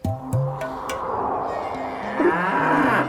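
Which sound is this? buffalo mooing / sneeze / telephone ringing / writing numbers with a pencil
buffalo mooing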